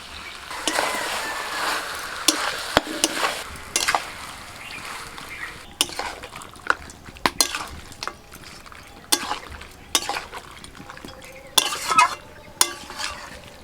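Chopped capsicum goes into a red country chicken curry and is stirred, giving a sequence of close, sharp scraping and clinking spoon strokes over a soft simmering sizzle.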